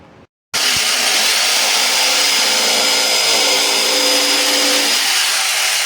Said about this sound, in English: I'll show you how I just start sanding it off.